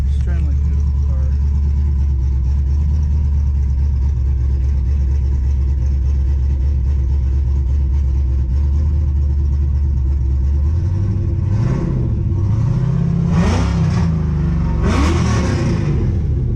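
An LS-swapped white car idles with a steady low rumble, then revs several times toward the end, the engine note rising and falling in loud bursts while people talk nearby.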